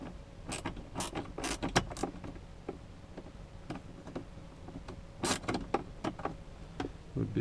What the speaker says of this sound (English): I've got this little ratchet wrench that's got an angle on it